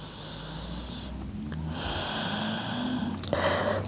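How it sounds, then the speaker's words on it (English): A person breathing in and out during a yoga flow, a slow audible inhale followed by a longer exhale with a soft nasal snort at the end, close and clear with no talking. "Breathing in and releasing out."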